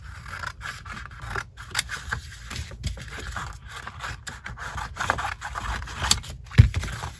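Scissors snip repeatedly at close range, cutting out small circles of material for a homemade doll house chair, with irregular crisp clips and scraping between cuts and no talking.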